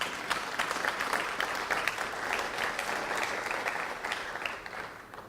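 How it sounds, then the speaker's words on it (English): Audience applause filling a lecture hall during a talk on electromagnetic radiation health risks, a dense steady patter of many hands clapping for about five seconds, fading slightly toward the end. "you shouldn't applaud really"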